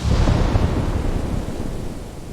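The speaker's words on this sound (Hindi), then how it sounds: "ये तूफान रुकने वाला नहीं।" A storm rolls on as a steady, loud low rumble with wind roar and distant thunder-like booming, continuous for the whole stretch and easing slightly toward the end, with no voices.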